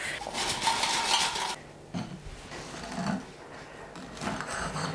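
Crispy roast potatoes rattle inside an Instant Pot Duo Crisp basket, a loud clattering shake for over a second followed by a few softer knocks and bumps, close up with no talking.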